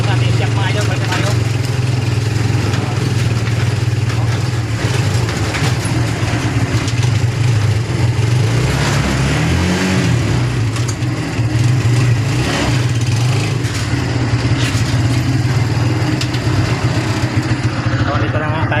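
Motorcycle engine running steadily after an ignition switch repair, a continuous close idle with a few brief revs around the middle, no talking.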